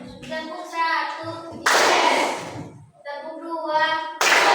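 Children in a classroom clap their hands together in a counted rhythm, each clap landing as a sharp, loud burst between stretches of a child's sing-song voice.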